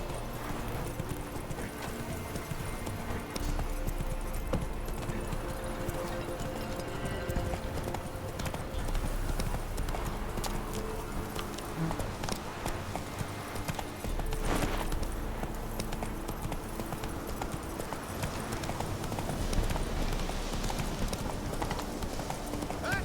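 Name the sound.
horse Roach galloping hooves, The Witcher 3 video game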